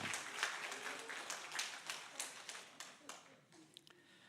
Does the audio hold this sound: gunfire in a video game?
no